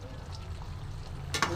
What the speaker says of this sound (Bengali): হালকা হালকা করে মিশিয়ে নিচ্ছি